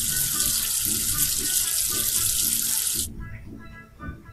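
A tap runs steadily into a sink as soap is rinsed off a number figure in a children's counting game, then shuts off, leaving soft background music.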